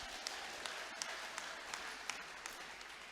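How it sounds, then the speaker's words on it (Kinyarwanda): Scattered applause breaks out at a Kinyarwanda church gathering honoring Jesus, a thin, fairly distant patter of claps with a few sharper individual claps standing out, low in level. "Yesu wakoze ibyo, nimwongere mu mukomera amashyi"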